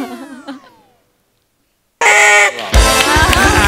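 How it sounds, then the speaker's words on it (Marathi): Toy trumpets on a comedy stage show blare together in a loud, nasal, buzzing squawk, first as a few descending reedy honks, then after a pause a dense burst of several horns. "पिपाण्या एकत्र वाजवतो"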